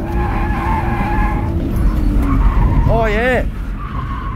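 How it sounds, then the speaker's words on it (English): A race car drops a tyre into the dirt and skids, with loud engine drone and a wavering tyre squeal near the end while a driver talks over it. "Drop a tyre in the dirt."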